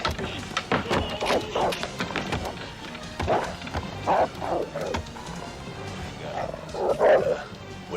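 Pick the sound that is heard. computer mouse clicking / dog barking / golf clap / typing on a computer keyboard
dog barking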